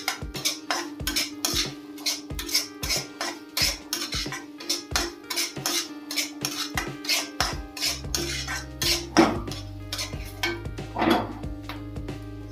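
Semolina stirred in ghee in a pan over a medium-low flame, a regular run of sharp spoon-on-pan scrapes and clinks, close and fairly loud, over a low steady hum; no talking.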